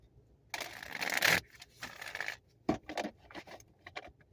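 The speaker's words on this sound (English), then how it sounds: "let's just shuffle this a little bit more" Tarot cards are shuffled by hand, close and fairly quiet, in a long riffling burst followed by several short flicks and slaps, with no voices.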